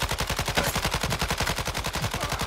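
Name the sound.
gunfire in a shooter video game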